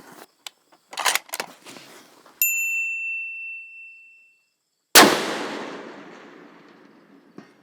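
A rifle fitted with a 34mm Tract Toric scope fires one loud, sharp shot at long range, 630 yards, after some faint clicks and handling noises and a brief ringing tone. A short decaying echo trails the report.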